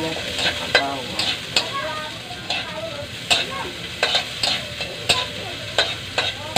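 Onion and garlic frying in a pan, stirred with brisk, regular spatula scrapes over a continuous close sizzle, with no talking.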